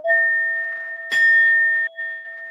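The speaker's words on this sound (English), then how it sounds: "That's why I keep ringing my bell" A small bell is rung to clear energy in a room with equipment running, giving a bright struck onset that rings out in steady sustained tones, with a second softer strike near the end; no talking.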